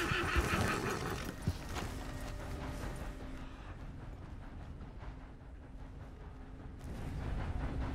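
Horse whinnying in the Red Dead Online video game, a loud neigh at the start over busy game noise, with hoof clatter and a low rumbling background continuing.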